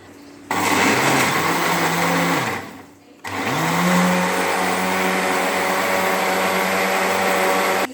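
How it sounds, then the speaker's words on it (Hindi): An electric blender grinds mango milkshake in two close, loud bursts, the motor whining up, cutting out briefly, then roaring again at a steady high pitch. "अब हम इसे करेंगे ग्राइंड"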